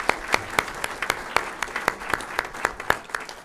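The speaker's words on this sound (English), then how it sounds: "Let's give her a round of applause" Applause from an audience at a school board meeting: a steady patter of many hands clapping, fairly close and even, with sharp individual claps standing out throughout and no voices over it.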